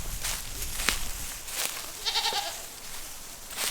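A goat bleats once in a short wavering call, set outdoors in a spring garden near a chicken coop, heard at moderate distance over rustling and scattered thumps, with no talking.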